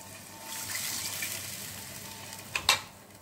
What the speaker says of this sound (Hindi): इसी मसाले में थोड़ा पानी इसी ऐड कर देंगे